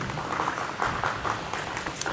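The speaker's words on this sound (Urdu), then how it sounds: "میں چاہوں گا تمام حاضرین ایک دفعہ ان کی ٹریبیوٹ میں تالیاں ضرور بجا دیجیے" Audience at a private schools association event applauding in tribute, a steady patter of many hands clapping at moderate loudness, with faint murmurs beneath.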